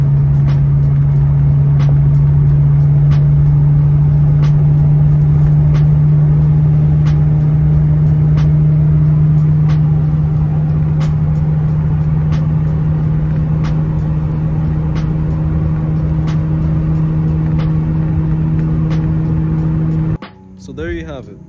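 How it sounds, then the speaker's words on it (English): Steady, droning interior noise inside a 2JZ Lexus GS300 cruising above 60 mph, a strong low hum with broad road and wind rumble that stays constant and loud before cutting out at the very end. "when you're getting on highway speeds, like if you're going over 60 or 65, it starts to get a little noisy in here"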